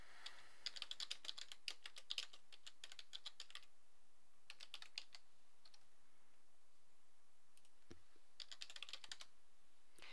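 Fingers tap quick, light bursts on a computer keyboard, typing an assignment into a text editor. The clicks come close and fairly quiet in three separate runs with short pauses between them.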